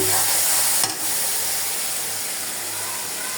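Garlic paste sizzles in hot oil in a pan, with salt already added, while fish curry with potatoes is being made. A steady close frying hiss follows a brief knock near the start.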